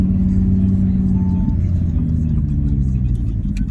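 A blue Audi RS3 8V with a 367 hp engine drives on the road, its low engine drone steady and close with a slight rise in pitch partway through, heard from inside the car.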